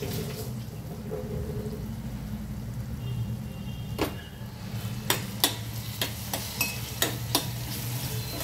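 Ginger garlic paste fries in a pan under a low, steady sizzle, with a run of sharp metallic scrapes and clinks from stirring near the end.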